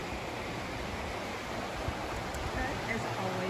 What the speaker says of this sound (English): love hearing the sound of water